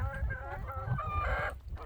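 A pet chicken clucking close up, a short run of nasal clucks and a brief drawn-out call over low background rumble, with no talking.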